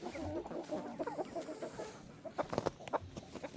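Silkie rooster vocalizing in a backyard flock, a run of chatty clucks and short calls close by, rising in a cluster of bursts toward the end over soft background noise.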